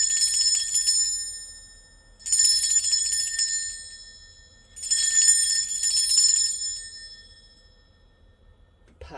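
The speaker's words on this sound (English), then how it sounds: "I am going to be ringing a bell." A small metal bell rung three times to cleanse a space, each bright ring sharp and close, then ringing out and decaying slowly into quiet before the next strike.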